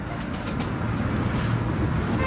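Pigeons at Sandeep Bhai's loft make a low, continuous cooing murmur with faint rustling and occasional wing sounds, close by and steady throughout.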